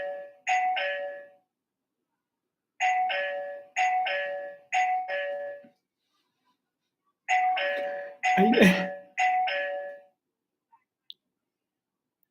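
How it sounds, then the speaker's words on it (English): A doorbell rings in repeated bursts of bright two-tone chimes, in clusters of two or three with pauses between, fairly clear and close in a quiet room, with a brief rustle or knock among the later chimes. "But I have a doorbell."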